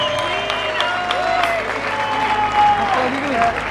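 An audience applauding at a live concert in Velletri, Italy, with steady clapping spread across a crowd while someone talks over it.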